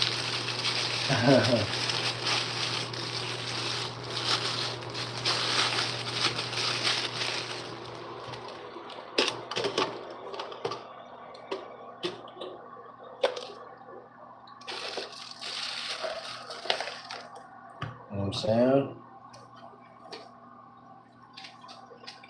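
Water splashes and sloshes repeatedly, with scattered drips and a steady background hum, while someone talks intermittently nearby.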